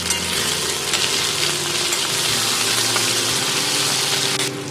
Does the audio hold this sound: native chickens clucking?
no